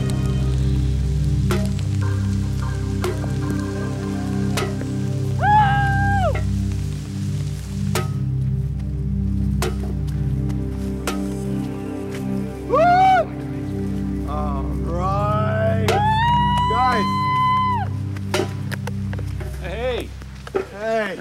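Steady rain falls through the Nova Scotia woods in cold weather, a continuous close patter that runs the whole stretch, with scattered rising whistle-like chirps and faint tonal calls over it.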